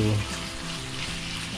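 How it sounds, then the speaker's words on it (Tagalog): Pieces of marinated chicken for adobo sizzle and crackle steadily in a hot pan, a continuous frying hiss close by. "Kailangan i-prito-prito muna natin itong manok."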